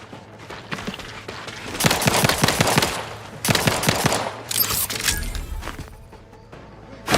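Revolver shots in The Outer Worlds 2, a slow-firing gun: sharp, loud cracks spaced by long gaps, with several bursts of repeated bangs and bright noisy tails, close up and with no talk over them.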